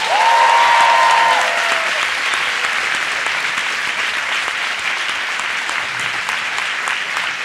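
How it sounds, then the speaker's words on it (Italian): A podcast audience gives a guest a big round of applause, dense steady clapping that holds evenly throughout, with a faint tonal whistle near the start. "Fate un grande applauso per Tahir Hussein."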